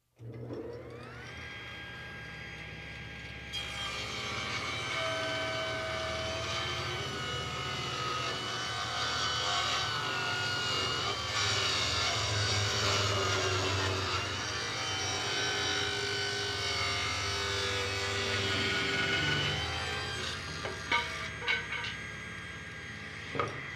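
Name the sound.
Delta Unisaw table saw started up and cutting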